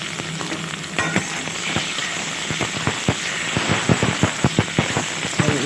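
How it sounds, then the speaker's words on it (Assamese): Pork with crushed ginger and garlic frying in a pan, a loud steady sizzle with sharp crackling pops that thicken toward the end, with no voices. "আৰু এইদৰে অকণমান সময় ভাজি ল'ম মই মাংসখিনি"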